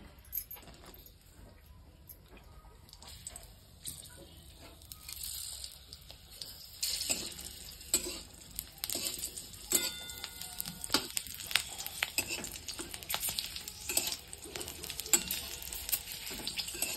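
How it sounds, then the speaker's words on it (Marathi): Green chillies frying in a little oil for a pea chutney, soft crackling sizzles and light stirring clicks, building from quiet to a busier spatter, with no talk. "त्या तेलामध्ये हिरवी मिरची टाकून घेते"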